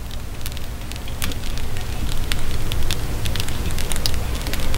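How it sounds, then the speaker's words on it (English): Freshly baked homemade sourdough bread cooling out of the loaf pan gives off steady close crackling, a dense run of tiny sharp pops and ticks over soft background hiss, with no talking. "That is the beautiful sound of fresh homemade baked sourdough bread."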